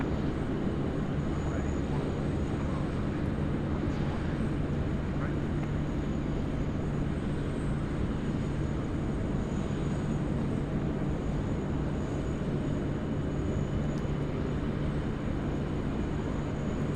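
Qantas airliner taking off from runway 16 right at Sydney Airport, a steady broadband engine roar with a low hum, continuous and moderately distant for the whole stretch, without talk.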